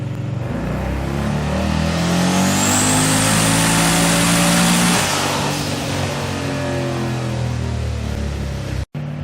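A Ford Fairmont's built engine, making around 936 horsepower, roars loud and close, revving hard with rising pitch, then holding a heavy, rough idle before a sudden cut at the end.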